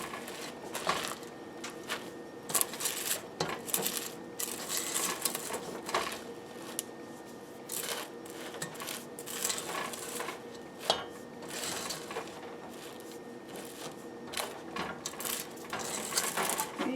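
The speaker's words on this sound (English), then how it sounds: "This is why I like to use a rubber spatula for this, because I can kind of fold it in." Close, repeated sticky scraping and tapping of a rubber spatula folding rice crispy treat mixture in a bowl, with uneven rhythmic strokes throughout.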